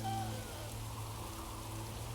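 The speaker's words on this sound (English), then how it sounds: "it just looks like rain" Rain falling in The Witcher 3 near a fast travel spot in Oxenfurt, a steady even hiss of rainfall over a low constant hum, unbroken and moderately loud with no talk.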